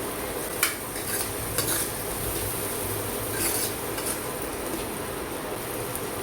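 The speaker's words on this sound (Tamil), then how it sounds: "இப்போ உப்பு, பெருங்காயம், மஞ்சள்தூள் இது எல்லாம் போட்டு நம்ம 2 நிமிஷம் வதக்கிக்கிறோம்." Salt, asafoetida and turmeric sautéing in a pan of hot oil for a lentil-ball kuzhambu, a steady close sizzle with occasional stirring clinks, no voices.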